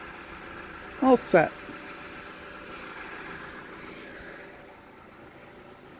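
A 2004 Honda CR-V engine idles steadily at a low, even hum in the background while a person briefly speaks over it, the rumble fading slightly toward the end.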